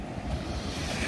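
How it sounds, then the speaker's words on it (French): Ocean waves wash onto the shore at a boat launch spot, a steady, dense roar of surf mixed with wind buffeting the microphone, with no voices. "il y a un petit peu de vagues pour la mise à l'eau"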